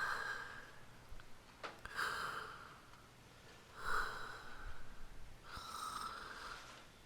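Someone breathes through a blocked nose, and each breath gives a thin, high whistling tone. Three or four slow, close breaths come at regular intervals.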